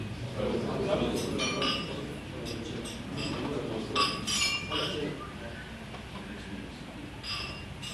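Glasses clink together in a toast at a book presentation, with scattered bright chimes rising over a murmuring crowd of people talking.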